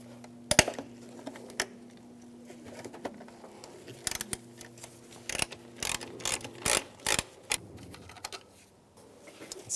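A T30 socket loosening a coil bolt on a Cadillac DTS engine, heard as soft ratcheting clicks and metallic taps in uneven bursts, close but fairly quiet with no talk.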